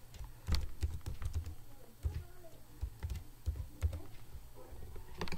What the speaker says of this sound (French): Je vais donc taper mon mot de passe.